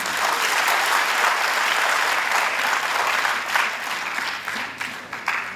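An audience at a Hindi stage play gives loud, sustained applause that gradually thins out and becomes more scattered near the end.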